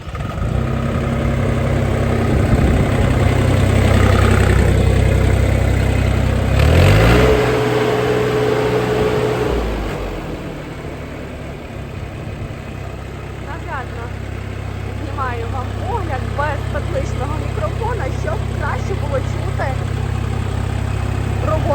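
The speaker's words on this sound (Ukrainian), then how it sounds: "роботу двигуна." A small diesel engine on a LeiTe mini excavator idles steadily with a low, continuous rumble, while someone talks over it throughout.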